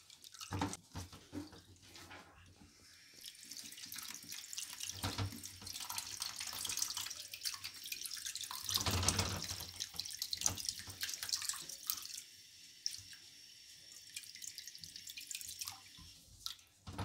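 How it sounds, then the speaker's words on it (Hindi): Water runs continuously from a tap onto lemon pieces to rinse away their sourness, a sustained splashing and trickling flow that swells and eases over several seconds. "तकरीबन 3 से 4 मरतबा हमने इसमें पानी डाला है।"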